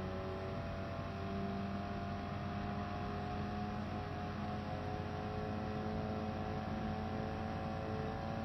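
A GT Sport race car engine holds a steady, buzzing drone throughout, fairly faint and without pauses, with no voices over it.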